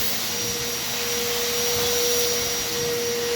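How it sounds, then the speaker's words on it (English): A Dewalt DXV10SA 10-gallon stainless steel 5 HP wet/dry vacuum runs steadily and loudly close by, a constant airy roar with a high motor whine and no breaks. "we can actually start vacuuming all of this stuff right here"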